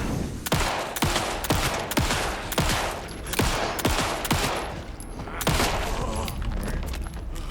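Gunfire in the video game Alan Wake 2 rings out as a rapid string of about a dozen loud, close shots at a fairly steady rhythm, each with a short crack and tail.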